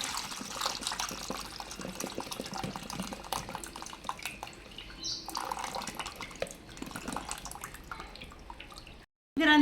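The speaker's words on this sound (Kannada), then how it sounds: "ಜಾಲದಲ್ಲಿ ತಿರ್ಗಾ ನೀರನ್ನು ಸೋಸ್ಕೊತಾ ಇದ್ದೀನಿ" Salty hog plum pickle brine is poured and strained through a sieve, producing a quiet, continuous trickle and dripping of liquid with small splashes, ending in a short silence and a sudden louder noise.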